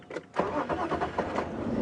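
A safari vehicle's engine cranks and catches after a short lull, then settles into a close, uneven rumble.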